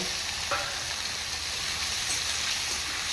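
Onion, carrot and beans sauté in hot oil for vegetable macaroni, a steady, even hiss of frying filling the clip, close up with a faint clink of a utensil early on.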